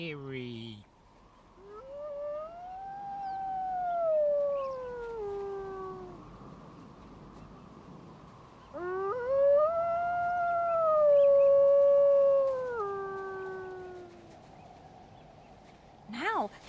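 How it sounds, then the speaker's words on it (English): Two long, eerie wolf howls, each rising then sliding slowly down, with a gap between them over a steady background hum, heard fairly clearly at moderate distance. "Oh, it's a wolf howling."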